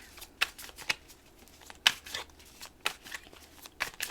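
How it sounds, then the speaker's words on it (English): Tarot cards being handled and drawn from a deck, a soft series of quiet, sharp flicks and slides spaced irregularly, close to the microphone in a hushed room. "I'm going to pull 3 more cards out."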